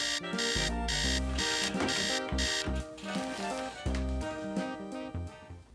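An alarm clock rings in a loud, steady pattern of repeated electronic beeps and tones, continuous over several seconds with short gaps between bursts.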